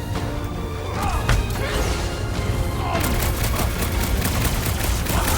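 Gunfire and impacts from the video game Guardians of the Galaxy, fighting near a ship's reactor: dense rapid shots, crashes and booms in continuous loud bursts with no pauses.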